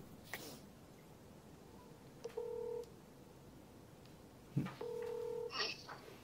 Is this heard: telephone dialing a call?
yes